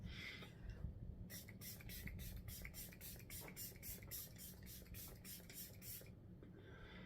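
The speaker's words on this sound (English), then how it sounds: "let's go ahead and spray our face with this Juvia's Place Ready Set Sealed setting spray" A makeup setting spray from a pump bottle misted onto a face: a rapid run of about fifteen short, crisp hissing pumps in a steady rhythm, close and quiet, with no talk.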